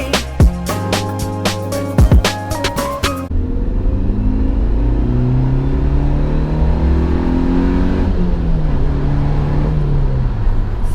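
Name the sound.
2019 Suzuki Jimny engine revving while accelerating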